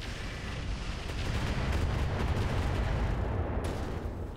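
Missiles firing in the BattleTech game Roguetech, a dense rumbling barrage of rapid thumps and bursts that runs without a break, loud and close with no voices.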